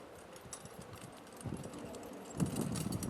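A pair of driving horses steps forward, their hooves clip-clopping softly and irregularly on the ground, faint and somewhat distant with light background noise.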